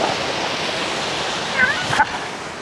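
Tuktuk Falls in Barangay Halang, Amadeo, Cavite, a continuous broadband rush of falling water filling the scene at close range, with a few brief chirps and voices faintly over it.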